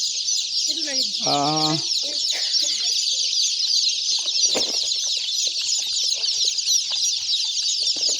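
Many young poultry chicks peep continuously in a crowded sale area, a dense, shrill chorus throughout, with a brief cluck-like call and some voices underneath.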